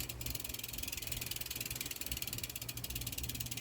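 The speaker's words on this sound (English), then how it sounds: "So just change it out and loosen up these two bolts here" Steady, fast ratchet clicking from a wrench loosening the crank bolts on an Ultegra road bicycle crankset, a continuous close mechanical rattle running without pause and no voices.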